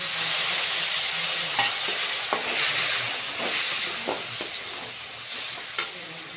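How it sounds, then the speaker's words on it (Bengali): Potatoes and spices fry in a pan after a splash of water for a fish and potato curry, giving a steady, close, hissing sizzle with a few sharp spatula scrapes and taps scattered throughout. "এবার বন্ধুরা, আলু আর মশলা সহকারে কিছুক্ষণ কষিয়ে নিব।"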